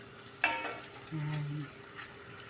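Onions and garlic frying in oil for pancit give off a soft, steady sizzle, with a sharp clink of a utensil near the start and a brief stirring scrape partway through, fairly close and moderately quiet.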